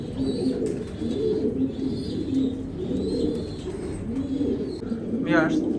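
A pair of racing pigeons, a male and a female, give soft, repeated rhythmic coos close by while someone talks over them.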